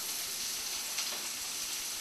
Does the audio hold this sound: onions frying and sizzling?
yes